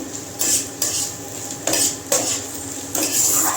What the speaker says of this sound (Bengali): একটু পেঁয়াজটা ভাজা হলে সামান্য একটু ভাজা হোক